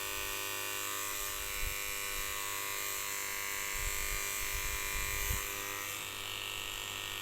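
An electric hair clipper buzzes steadily and close, cutting a two-month-old baby's hair, with faint low bumps from handling and no talk.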